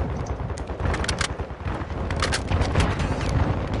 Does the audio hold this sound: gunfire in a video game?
yes